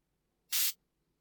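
White noise hi-hat layer from a Logic X music session, a single short hissing burst about a quarter second long, bright and isolated in silence.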